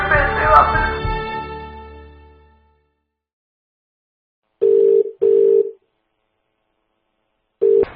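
After a fading ring, a telephone busy tone plays once a call is hung up: steady, mid-pitched beeps repeat alone against silence.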